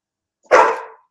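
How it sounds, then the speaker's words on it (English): A single loud, close dog bark, short and sharp, standing alone against silence. "Now my dog want to chime in."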